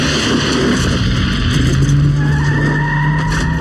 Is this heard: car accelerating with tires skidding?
yes